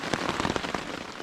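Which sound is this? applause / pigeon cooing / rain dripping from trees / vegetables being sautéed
rain dripping from trees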